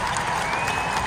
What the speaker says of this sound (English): A round of applause for one final time from the England fans.